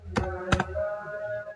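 Typing on a computer keyboard: two sharp key clacks close together, followed by a low steady hum from the room.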